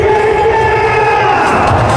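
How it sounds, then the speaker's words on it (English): Large cricket stadium crowd lingering after a match, a dense continuous roar of voices with scattered shouts and whoops, loud and sustained. "Crowd still here,"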